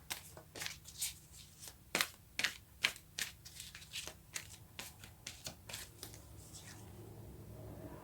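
Oracle cards are shuffled by hand in a run of quick, crisp riffling bursts, close and clear, which give way to a softer steady rustle near the end.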